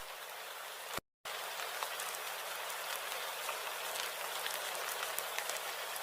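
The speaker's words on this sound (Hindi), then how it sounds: "हरी की पुकारें बारिश की आवाज में डूब जाती हैं।" Steady, hissing cartoon rain falls continuously, fairly faint, with a brief moment of total silence near the start.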